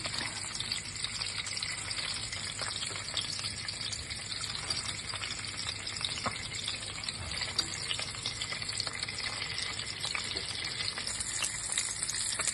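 Pork chops stood on their bone ends sizzle and fry in a pan, a dense, steady crackle of hot fat lasting the whole stretch, close and loud with no talking.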